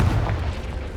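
A single short, deep boom from the Confringo blasting spell in Hogwarts Legacy, close and heavy with a quick rumbling decay.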